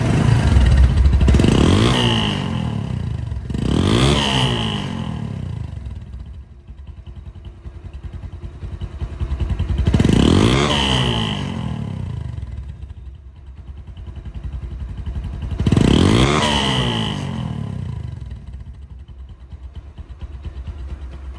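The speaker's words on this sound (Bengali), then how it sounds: "দেখেন যা সাউন্ড হচ্ছে সাইলেন্সারের মুখ থেকে" A motorcycle engine revs repeatedly, each throttle burst rising into a loud exhaust roar before settling back to a steady idle rumble.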